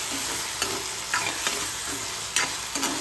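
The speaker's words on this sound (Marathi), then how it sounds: "आता हे 2-3 मिनिटं तरी आपण याला मस्त शिजवून घेऊया" Tomatoes for chutney cooking in a pan give a steady, close sizzle with a few soft stirring scrapes over three seconds, with no talk.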